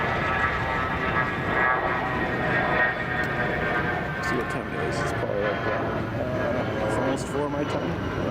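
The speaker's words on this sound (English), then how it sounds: "So we got 777 going to take off here soon." A Boeing 777 jet airliner preparing to take off from runway 22 left at Chicago O'Hare makes a loud, sustained engine roar with steady tonal whine, while a person talks over it.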